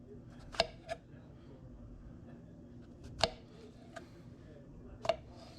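A knife slices through food during steak and shrimp prep, giving a few sharp, sparse cuts spaced seconds apart over a quiet low background.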